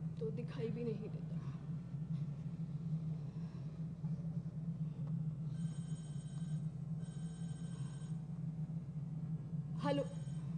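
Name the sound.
telephone ringing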